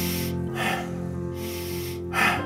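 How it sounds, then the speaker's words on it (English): Sharp, forceful inhale-emphasized breathing, with two or three quick loud intakes of breath through the nose, close to the microphone, with gentle background music underneath. "just start breathing in a way that's inhale emphasized."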